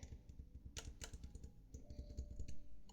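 Computer keyboard keys clatter in a quick, uneven run of close clicks during a game played with keyboard and mouse, with a few louder presses standing out and no talking.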